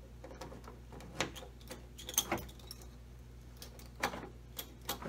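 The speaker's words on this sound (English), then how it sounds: "So let's try the key." Soft intermittent metallic ticks and clicks from an ignition key working in a modified 1965 Ford Mustang door lock, close up and quiet against faint background hum.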